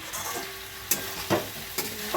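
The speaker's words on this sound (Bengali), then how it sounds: "এই যে আমি আর একটু ভালো করে ভাজা ভাজা করে আলুটা সেদ্ধ হয়ে গেছে কিনা" Potatoes frying in a pan, with a soft steady sizzle broken by a few sharp scrapes and knocks of a spatula stirring them, heard up close with no talking.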